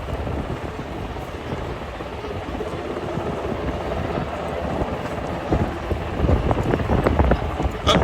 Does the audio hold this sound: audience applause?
no